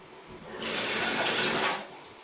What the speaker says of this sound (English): Just cover them with a bit of water, turn the water on